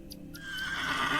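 Horse whinnying in the video game The Excavation of Hob's Barrow, a single rising neigh that builds over a second and stays loud and close, with no talking.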